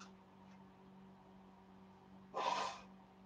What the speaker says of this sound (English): Okay, gotta blow my nose.